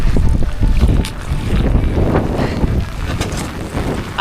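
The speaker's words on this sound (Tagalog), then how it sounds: "Malakas ang hangin ngayon." Strong wind buffets the microphone in loud, rumbling gusts, with water sloshing faintly around a small, leaky fishing boat at sea.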